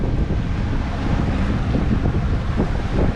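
Sea breeze picking up aboard a sailboat on a cruise off Catalina Island, heard as a steady loud rush of wind buffeting the microphone, with a low rumble of water and boat underneath and no voices.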